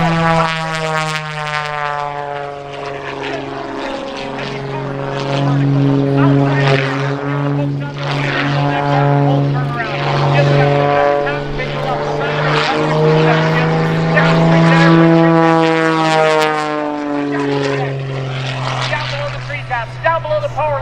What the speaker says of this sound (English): he brings that airplane right back up, climbing on a 45, twisting, turning as he unloads it